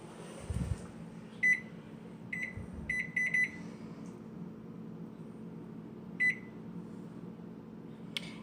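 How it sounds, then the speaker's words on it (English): A microwave hums steadily while heating water for scouring Merino wool locks, its keypad beeping several times in quick bursts, with a few soft clunks from someone working at the door. "we'll give it 10 minutes here at the microwave."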